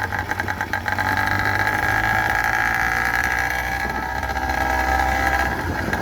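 Small engine on a motorized bicycle running steadily, a loud buzzing drone that holds close and constant with slight wavering.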